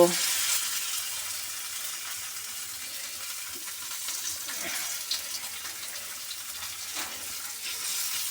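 Oil sardines (nei chaala) fry in a pan, giving a steady, close sizzling hiss with occasional soft pops and scrapes throughout.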